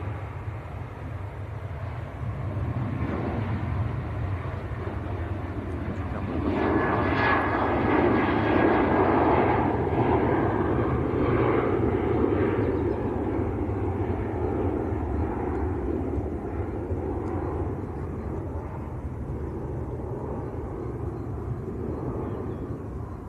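A Ryanair airliner departing Manchester Airport for Tenerife, its jet engines rising to a broad roar that peaks and then holds as a steady distant rumble, with no voices.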